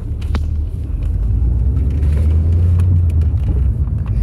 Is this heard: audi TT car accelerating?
yes